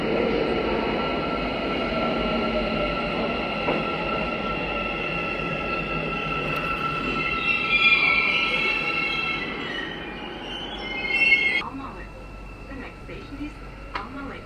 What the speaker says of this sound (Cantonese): 咁阿拉木圖嘅地鐵咧係得一條線嘅啫，咁所以你只要搞清楚前後方向咧，就唔會搭錯噶啦